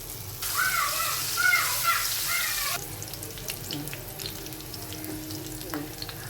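Chopped garlic drops into hot oil in a pan and starts to fry, a loud broadband sizzle that fades into a steadier, quieter crackle, heard alone without talk.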